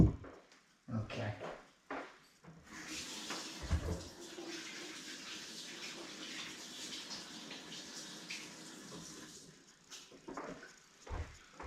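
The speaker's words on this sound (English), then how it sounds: "And we just washed our hands again" Tap water runs steadily in a farm kitchen as hands are washed under it, a soft rushing flow lasting several seconds after a few brief knocks, with faint voices nearby.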